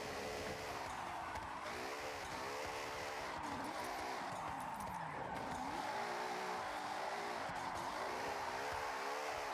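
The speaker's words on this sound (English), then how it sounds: "Kinda getting good at drifting" A McLaren 620R drifting in Forza Horizon, with a continuous engine whine and wavering tire squeal that rise and fall as the car slides, steady and moderately loud throughout.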